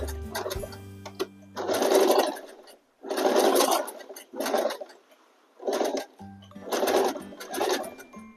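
A sewing machine stitches a semi patiala salwar, running in close rapid bursts of about one second each, with short pauses between runs and no talking.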